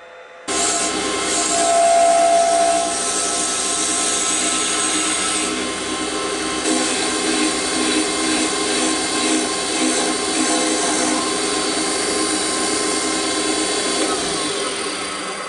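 A power tool cuts into yellow boxwood with a loud, sustained whine and buzzing grind that starts abruptly, holds steady for about fourteen seconds with slight shifts in pitch, then cuts off.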